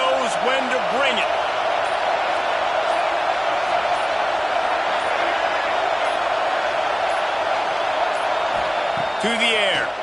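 A stadium crowd at a football game keeps up a loud, sustained roar of cheering, with a commentator's voice briefly audible over it near the start and end.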